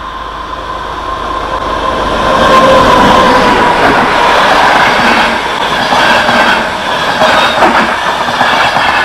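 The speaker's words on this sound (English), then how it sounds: "read the poem to the effect of a moving train's sound" A moving train rumbling steadily with rhythmic wheel clatter and faint metallic squeal, loud and continuous, swelling slightly midway as if from inside a railway carriage.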